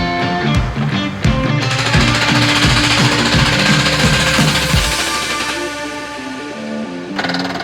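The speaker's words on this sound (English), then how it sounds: "Start drilling gently with slow rotation." A Mincon telescopic well drill rig hammers casing into the ground, a loud, rapid percussive pounding with rhythmic thuds that steadies into a dense rattling roar before easing off, no voices.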